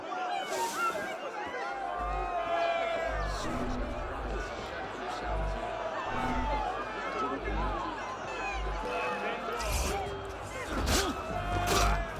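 Crowd noise from Assassin's Creed Unity, a dense, steady murmur of many voices with scattered shouts and thuds running throughout, loud and continuous, with someone talking over it.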